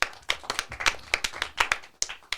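A small audience at a French comedy show claps in a sparse, uneven patter of distinct handclaps, fairly close and without talking.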